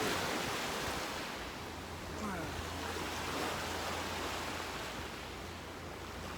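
Ocean surf at Waikiki Beach makes a steady broadband rush of waves and wind, continuous and fairly close throughout.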